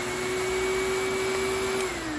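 A Lindhaus Healthcare Pro Ecoforce vacuum runs with only its suction motor on, giving a steady, continuous whine with a sustained tone that drops slightly in pitch near the end. No one speaks.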